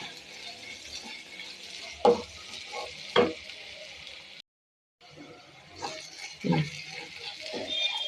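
Ginger garlic paste and turmeric powder stirred in a hot pan for crab roast, a low steady sizzle broken by several distinct spoon knocks and scrapes, with a short gap of silence midway.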